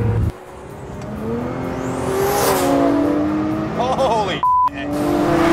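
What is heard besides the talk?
AMS Alpha 12 Nissan GTR wastegate flutter and turbocharger whine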